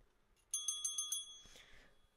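A bright bicycle bell rings six quick, evenly spaced times, clear and close with no one talking, then a short scuffing clatter follows and the sound fades out.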